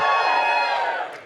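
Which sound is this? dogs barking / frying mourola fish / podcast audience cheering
podcast audience cheering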